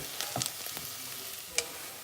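Tomato sauce cooking in a pot, a soft continuous sizzle with a few sharp clinks and stirring clatters of a utensil, fairly close and without speech.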